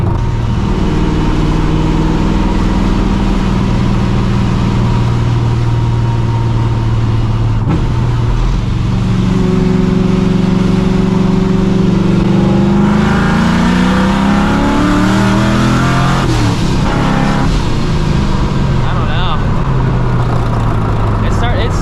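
A 600 hp two-valve Ford Mustang GT roars through hard pulls, its engine note climbing and dropping loudly with rising revs and tire spin, while people talk over it.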